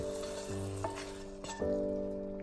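Chopped onions in olive oil sizzle and fry as they are added to a pot of cooking red lentils, a steady close hiss with a couple of brief clinks, under a faint tonal background.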